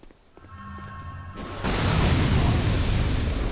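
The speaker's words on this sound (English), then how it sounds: "What is that explosion radius?" An explosion in Dark Souls II erupts after a short tonal lead-in, a sudden loud blast that swells into a sustained roaring rumble filling the rest of the clip.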